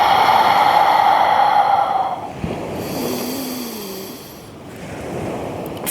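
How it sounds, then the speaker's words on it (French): A long, loud breath is pushed out through the mouth during an exercise session, a rushing airy exhale that tails off, followed by a softer breathy stretch. "On expire par la bouche."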